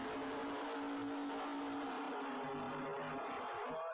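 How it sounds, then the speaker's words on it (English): A Ford Thunderbird race car roars across the finish line at an Astrodome event, a sustained, distant-sounding engine whine under crowd ambience. "The 22-year-old from New Orleans, Louisiana, in the unique Ford Thunderbird. Blast across the finish line"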